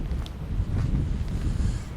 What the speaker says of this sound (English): It's windy, but you can hear that for yourself.